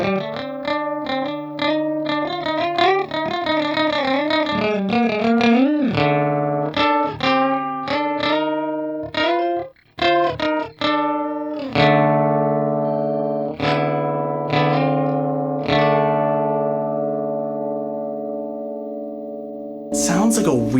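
Guitar through a Stritch OCTPUS octave pedal on octave 1 with the dry signal down, giving a bright, metallic, slightly distorted tone as quick picked runs give way to sustained chords, close and loud, with a brief burst of noise at the end.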